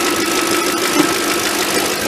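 A 2000 Audi A8 engine running after a fuel pump replacement, a loud, steady close idle with a faint even ticking throughout.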